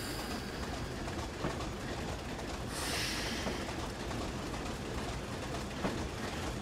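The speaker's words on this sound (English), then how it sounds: "We have another train going past." A passing train in a train simulator game on a Weardale and Teesdale line, a dense, steady rumbling roar with a brief brighter rush partway through, loud and continuous.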